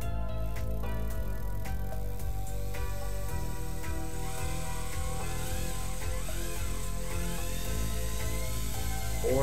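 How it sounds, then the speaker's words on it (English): A Chevy 454 big-block V8 with an MSD Street Fire ignition revs hard toward about 5,000 RPM, a loud, dense, steady roar with rising and falling whine through the middle, alone with no talk. "just gonna rev that thing up, see how it does."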